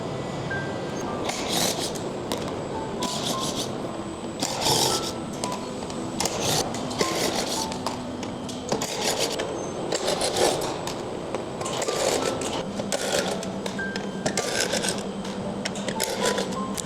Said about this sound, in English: Use the S2 T30 socket to remove the screws at the edge of the battery case